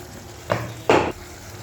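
A spoon stirs chicken curry in a frying pan over the stove in two quick, close scraping strokes with a soft sizzle, the second longer and louder, over a low hiss between them.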